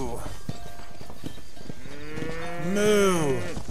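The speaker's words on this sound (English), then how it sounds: "Moo!" A single drawn-out cattle moo, long and wavering, in the video game Red Dead Redemption, rising over a steady background of outdoor ambience and scattered faint clicks.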